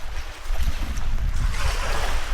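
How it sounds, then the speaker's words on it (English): Cold wind blows steadily beside a remote Canadian lake at a fishing lodge, a loud continuous rush and buffeting roar over the microphone. "A little windy today."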